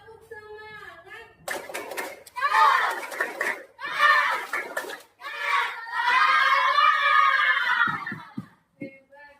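A classroom of schoolchildren repeating a 'tepuk semangat' spirit clap and chant, louder and more energetic: bursts of clapping and a long shouted group chant, close, ending in a few sharp claps.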